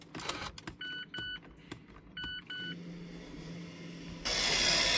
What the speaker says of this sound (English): Now you hear it's the piston is retracting